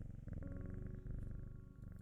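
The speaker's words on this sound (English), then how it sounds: "so let's pat the kitty" A cat purrs while being petted in the video game Strange Horticulture, a soft, continuous rumbling purr with a steady rhythmic pulse and a quiet tonal hum beneath it, heard alone.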